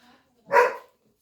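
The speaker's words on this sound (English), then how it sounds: "that's my dog Belle" A pet dog lets out one short, muffled bark, moderately close and a little faint, inside a quiet room with no talk over it.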